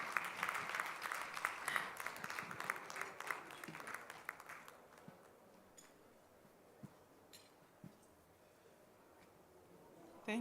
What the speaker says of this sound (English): Please, I know you are eating, but let's clap for her.